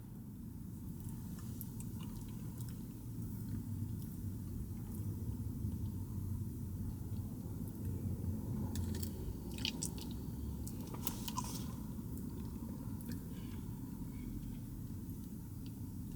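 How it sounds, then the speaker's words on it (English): Wendy's triple berry Frosty is eaten with a spoon. Close, wet chewing and mouth sounds continue over a steady low rumble, with a few brief clicks and no talking. "Got my spoon out."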